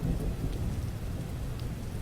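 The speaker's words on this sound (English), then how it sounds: "It's playing his rain video." Rain and thunder from a looping rain video on a tablet: steady broadband rainfall with a low rumbling undertone, continuous and fairly loud throughout, no voices.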